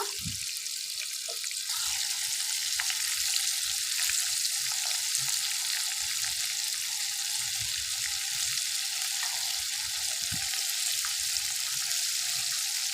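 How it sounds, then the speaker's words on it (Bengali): KFC-style fried chicken cooking in oil on low heat, a soft continuous sizzle with occasional pops and faint utensil movements, steady and unbroken for the whole stretch. "লো হিটে ভেজে নিব"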